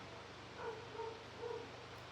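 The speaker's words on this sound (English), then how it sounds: "Sorry if you can hear that dog." A dog whimpers faintly in the background indoors, with three soft whines spaced about a second apart over the steady hum of a running fan.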